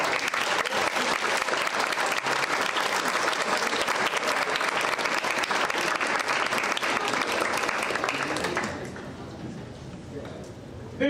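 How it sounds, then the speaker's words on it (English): Sustained applause from an audience at a senior awards banquet, dense steady clapping at close range that holds for about eight seconds and then thins out toward the end. "Let's give all these young men a round of applause."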